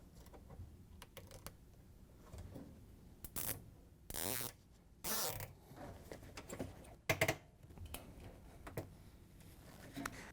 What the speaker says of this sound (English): Once you have the zip tie tightened down,